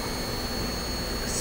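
A 60,000 RPM electric spindle speeder with air bearings, fitted to a precision machining setup, runs as a steady, loud high-pitched whine over a constant airy hiss, with no pauses.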